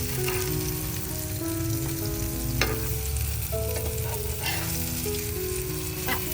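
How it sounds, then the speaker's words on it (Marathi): Bombay duck (bombil) fish frying crisp in a pan, a continuous close sizzle and crackle with occasional sharp pops and stirring. "तिकडे बघा बोंबील आपले मस्त फ्राय झालेलं, त्यांना आपण आत पलटी करून घेऊया."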